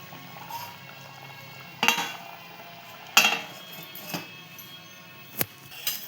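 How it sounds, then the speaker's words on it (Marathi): A metal dish lid set over a cooking pot, producing a few sharp clinks and clanks spaced a second or so apart over a soft background hiss. "आता आपण हे झाकून ठेवूया शिजत."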